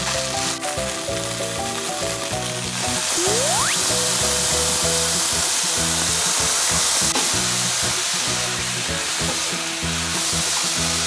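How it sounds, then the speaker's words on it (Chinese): Organic dried tofu fries in a pan with a loud, continuous sizzle, joined by clinks and scraping of stirring, close and steady throughout. "这个豆干也是稍微煎到有一点焦黄比较香，而且我这是有机豆干，然后稍微煎了它就"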